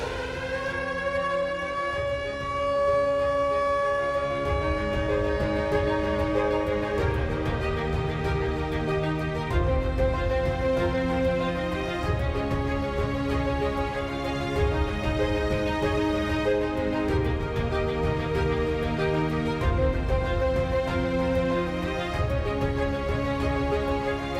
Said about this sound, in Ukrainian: Увага! Повітряна тривога. Всім пройти в укриття.